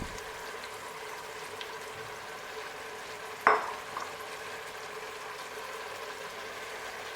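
Ginger, garlic and crayfish stirred in a cooking pot for coconut rice: a quiet, continuous frying hiss with one sharp clack of a spoon against the pot partway through.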